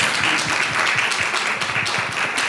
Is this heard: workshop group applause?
yes